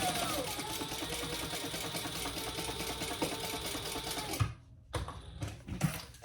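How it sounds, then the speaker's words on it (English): A sewing machine bastes the bottom and side seams of a small sling bag, running in a steady close whir, then stopping into a few scattered clicks and handling noises. "let's just stitch all the way along here"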